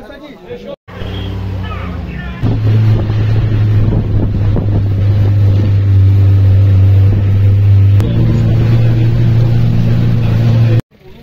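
Cars carrying a tour group toward a glass bridge in China give a steady low engine drone with wind buffeting over it, and voices faint in the background.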